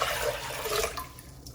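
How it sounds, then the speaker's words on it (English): Water pours steadily into a cooking pot for a brief moment, a close, continuous splashing rush. "I'm going to add 7 cups of water to a pot."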